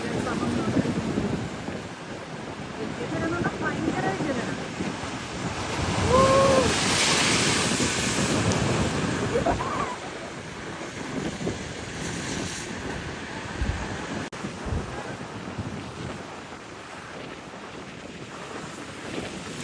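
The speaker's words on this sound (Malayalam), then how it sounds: "ഭയങ്കരമായിട്ട് കടൽ ഇങ്ങനെ കലിപ്പിലാണെന്ന് പറയില്ലേ" Rough sea at Munambam beach in Kerala: surf crashes and churns continuously, with a strong surge in the middle. Loud wind buffets the microphone throughout.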